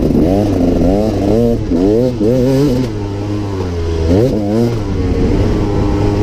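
A KTM EXC 300 two-stroke dirt bike heard from the rider's position, its engine loud and close, revving up and down through quick rising and falling surges as it rides, with wind rush underneath.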